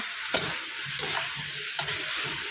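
Pea eggplants stir-frying with pork belly in a yellow chili paste, a loud, dense, close sizzle with three quick spatula scrapes through it.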